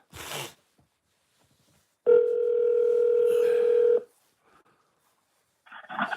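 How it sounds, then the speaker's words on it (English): An outgoing phone call placed through an Alexa smart speaker, a single steady electronic ringback tone lasting about two seconds, loud and clean, with brief faint sounds before and after. "Alexa, call Julio."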